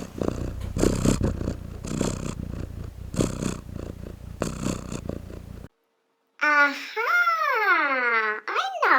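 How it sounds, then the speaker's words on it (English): A cat purrs loudly and close up in rhythmic pulses that rise and fall with each breath, followed after a short silence by a voice speaking. "You heard a cat purring loudly."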